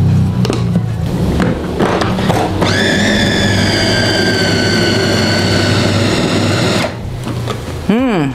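An electric food chopper mixes meatball dough for crispy fried bagoja, its spinning blade giving a loud, steady motor whine that starts a few seconds in and cuts off near the end, with a voice talking before and after.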